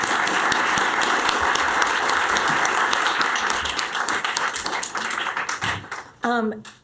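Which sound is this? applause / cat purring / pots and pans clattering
applause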